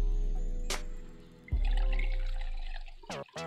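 Galosha petrol being poured into a container, short liquid splashes and trickling at close range, with a gurgling pour in the middle and a few brief clicks near the end.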